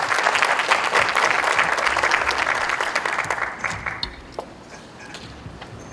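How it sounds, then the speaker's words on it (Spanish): An audience at a human rights panel applauding to welcome a speaker, dense close clapping that fades out over a few seconds to a quiet room with a few stray claps. "Les pido un caluroso aplauso para darle la bienvenida al maestro José Luis Armendáriz González."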